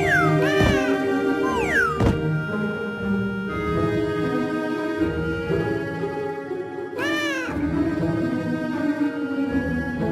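Several cats meow loudly and repeatedly in the video game Super Granny 4, with rising and falling cries layered over a steady background hum.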